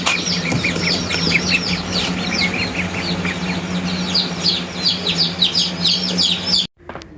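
Dense, continuous high-pitched cheeping of many meat chicks in a brooder, close and lively, with a low steady hum underneath until it cuts off abruptly.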